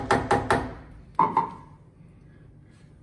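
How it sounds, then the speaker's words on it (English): A rawhide mallet face strikes the spindle of a Haas VF3 mill: three quick, close knocks, a pause, then two more, each short and dull with a brief ring. "as I tap the spindle down. So I'm just using the rawhide side of copper mallet."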